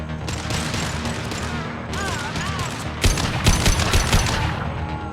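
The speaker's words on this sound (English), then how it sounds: "Firing concussive shot!" Concussive shot ability fired during combat in the video game Mass Effect 2, a burst of loud, rapid gunfire-like blasts and booms with sharper impacts in the second half, amid busy battle noise.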